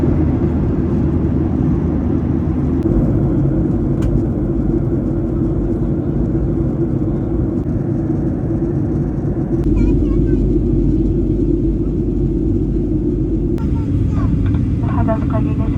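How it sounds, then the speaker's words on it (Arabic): A deep, steady rumble fills an airliner cabin as the plane descends toward landing. The drone holds constant throughout, with faint voices and small cabin noises scattered over it. "لحظات قليلة سيدتي وسادتي وتنخفض بنا الطائرة."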